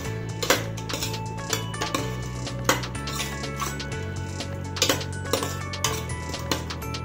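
A utensil stirs mushrooms into biryani masala in a cooking pot, giving repeated metallic clinks and scrapes against the pot at an irregular rhythm, close and fairly loud over a steady low hum.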